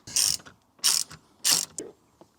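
A ratchet wrench loosens the seatbelt bolt inside a Ford Transit Custom van: three loud bursts of rapid clicking, each about half a second long, separated by short pauses, then a fainter final click, close and with no speech.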